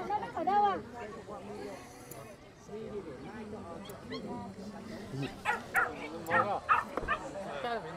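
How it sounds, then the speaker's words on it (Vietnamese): A dog at the Lùng Phình highland market in Bắc Hà, Lào Cai yips, barks and whimpers in short bursts, close by, among busy market chatter and people talking. "Con chó này đi bán à? Con này ngoan nhỉ."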